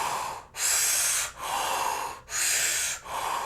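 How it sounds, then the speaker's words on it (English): Powerful kriya breathing through an O-shaped mouth, sucking air in hard and pushing it out: loud, close, rhythmic rushing breaths alternating in and out, about five strokes with brief gaps and no talk. "through an O-shaped mouth, sucking in air very powerfully while my belly fills up as I'm sucking the air in"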